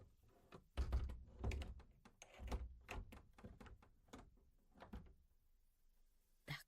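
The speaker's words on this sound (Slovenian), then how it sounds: "pridi, zaklenili bova vsa vrata," Doors in a small cottage being shut and locked, heard as a series of close, dull thunks and knocks with short gaps, ending in one sharp bang.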